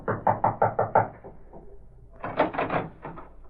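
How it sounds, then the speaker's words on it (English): Knuckles rap on a door as a radio drama sound effect: a quick run of five or six firm knocks, a pause, then a second burst of knocks, close and clear with no voices. "he approached and rapped on the door."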